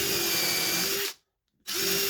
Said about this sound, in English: All of this is done with a countersink drill bit in the impact drill.